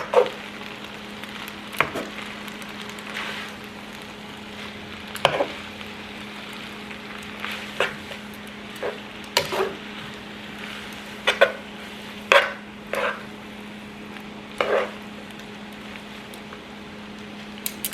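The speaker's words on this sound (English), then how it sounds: "I'm gonna toss it around and mix it up all together like this" Tagliatelle tossed with basil pesto in a pan, a soft continuous sizzle broken by periodic clinks and scrapes of utensil against the pan, steady and close with no talking.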